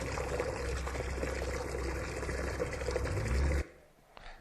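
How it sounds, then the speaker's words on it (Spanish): Water gushes strongly from a household tap in a steady, loud, splashing pour, then cuts off sharply, leaving quiet background. "Te muestro cómo es el caudal que tengo de agua"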